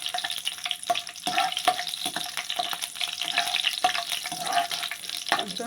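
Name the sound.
cashews and almonds frying in pan for carrot halwa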